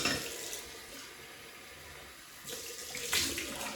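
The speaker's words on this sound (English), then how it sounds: "Cold water rinse." Cold tap water runs in a steady wash for a rinse after a shave, rising in short gushes near the end as the rinse splashes.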